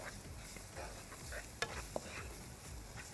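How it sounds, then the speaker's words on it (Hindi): Masala seasoned with turmeric and garam masala is roasted in a pan: a soft, low sizzle with scraping strokes and two sharp spoon taps near the middle, fairly quiet throughout. "इसको आपने डाला, डालने के बाद इस मसाले को थोड़ा सा भून लिया।"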